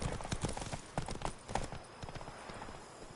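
Hooves of Geralt's horse Roach clip-clop in The Witcher 3, a quick rhythmic run of hoof strikes, fairly close, over a steady game ambience with a faint voice.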